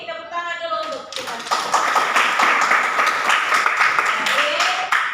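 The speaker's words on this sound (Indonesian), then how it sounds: "tepuk tangan dulu untuk kita" A class of students claps hands together in a classroom, a dense, loud round of many overlapping claps that starts after a teacher speaks and carries on steadily, with voices mixed in.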